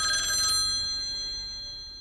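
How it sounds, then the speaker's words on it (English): Telephone ringing with a bright electronic bell-like tone, one burst of ring fading into a sustained ringing decay, fairly loud and alone with no voices. "the phone rang."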